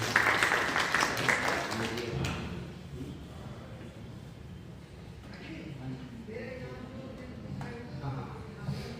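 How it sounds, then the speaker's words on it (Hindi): An audience applauds at a press conference launching a Garhwali film promo. Dense clapping opens loud, then thins and fades within a couple of seconds, leaving room noise and scattered voices. "उनके लिए एक बार जोरदार तालियां बनती है।"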